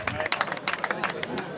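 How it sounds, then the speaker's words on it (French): Crowd applauding the winning soapbox race team at an outdoor event, a brisk patter of scattered claps rising and falling with murmuring voices mixed in. "on peut les applaudir parce que même sur le fair play, ils ont aidé d'autres équipes à pousser"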